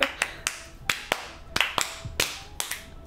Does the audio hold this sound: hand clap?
yes